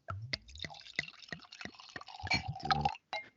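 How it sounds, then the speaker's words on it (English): Wine is poured from a bottle into a glass in a big first pour, with a sequence of close, distinct glugs and splashes that build into a brief, louder bubbling fill before stopping. "you're doing a big pour at first"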